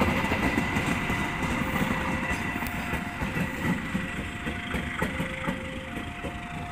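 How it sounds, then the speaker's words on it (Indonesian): A passenger train rolls past a level crossing on the airport rail line in Yogyakarta, its steady rumble and wheel clatter holding throughout. A crossing bell rings repeatedly above the noise. "Kereta api dari arah Jakarta"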